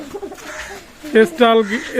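Pakistani teddy pigeons coo in short bursts, a couple of loud rolling calls in the second half following softer cooing, with a voice talking underneath.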